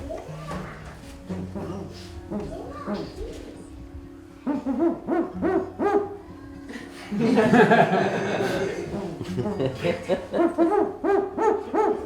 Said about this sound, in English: Males hoot low and slow, females hoot high and fast.